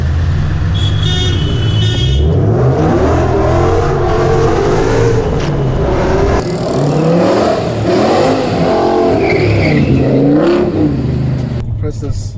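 A BMW M5 sports sedan's engine revs hard and loud on a Mumbai street, rising and falling through repeated bursts of acceleration with a short horn toot near the start, alone and close.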